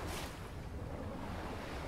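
Ocean waves in the first-person shooter Wolfenstein: The New Order, a steady broadband wash of surf with a brief brighter swell near the start, continuous and moderately soft with no talk.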